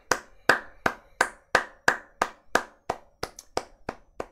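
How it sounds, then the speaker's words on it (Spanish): A series of about a dozen sharp hand claps in a steady rhythm, close and clear, each one ringing briefly before the next. "Un aplauso, mi gente."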